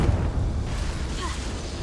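A Confringo fire spell detonating in the Hogwarts Legacy video game, a heavy rumbling boom with low-end weight that rolls on for under two seconds.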